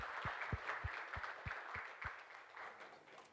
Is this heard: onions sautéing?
no